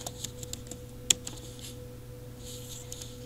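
Scattered keystrokes on a computer keyboard entering an Excel formula, a few light taps with one sharper click near the start, quiet and alone over a steady low hum.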